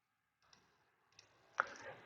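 Calculator buttons being pressed, a few faint separate clicks close by in a quiet room, ending on a sharper, louder press.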